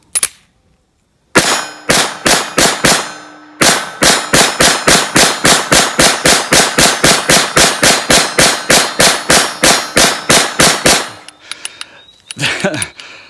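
Rapid one-handed fire from a Kel Tec PMR 30 pistol at about 12 yards: over thirty loud, sharp reports in a fast, even string with one brief pause, then a few faint clinks and rustles.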